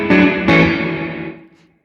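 An electric guitar run through a spring reverb effect plays two struck chords that ring out and decay into a splashy, fading tail, loud and close with no talking.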